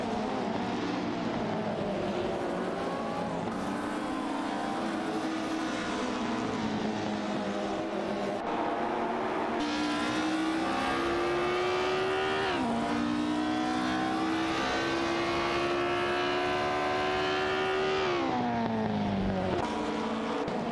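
Matra MS7 race cars in a video game race pass with a constant, loud, high-revving engine whine. Pitch rises and drops as the cars shift gears and pass, and several engines overlap with no voices.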